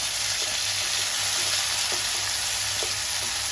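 Onion, boiled field beans and brinjal sautéing in a pan for a Tamil-style poriyal, giving a steady close sizzle with a few faint scraping stirs and no talk.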